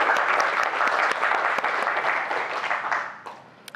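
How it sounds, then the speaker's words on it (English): Audience at a public science lecture on rocky intertidal engineers claps for a webinar host, full applause that tapers off into a few last claps. "So round of applause for Alfonso."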